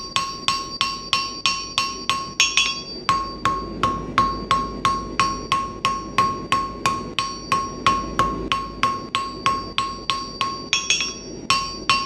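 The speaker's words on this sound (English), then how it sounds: "I'm not working my hammer a whole lot this way" Steady rhythmic hammer blows ring out on square steel stock over an anvil while forging an S hook, roughly three sharp metallic strikes per second with bright ringing decay, continuing throughout with no talking.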